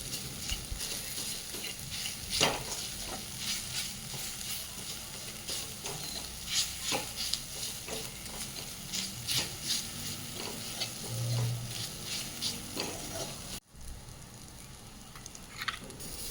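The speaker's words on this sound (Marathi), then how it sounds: "धने पावडर, लाल मिरचीची चटणी नीट परतवून घ्यायचं आहे सगळं।" Coriander powder, turmeric and red chili paste sauté in a pan for a drumstick masala dish, a soft continuous sizzle broken by repeated scraping stirs, fairly quiet and close.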